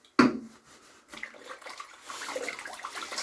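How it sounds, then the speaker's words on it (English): Tap water rinsing a shaving brush at a sink: a sudden splash opens, then a steadier stream of running and splashing water builds and continues to the end. "Wash the brush."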